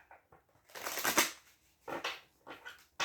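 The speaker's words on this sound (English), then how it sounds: "And one more shuffle." A deck of tarot cards being shuffled up close, with one long riffling burst followed by two shorter bursts of card noise and no talking.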